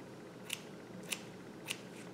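Scissors trimming a layered synthetic wig, three crisp snips spaced evenly about half a second apart, close and clear over quiet room tone.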